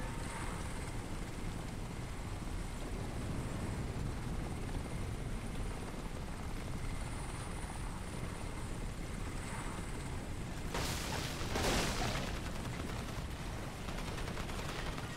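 A Korean military helicopter in the shooter game Crysis Warhead keeps up a steady rotor and engine drone for the whole stretch, joined near the end by a short burst of louder broadband noise like gunfire or an explosion.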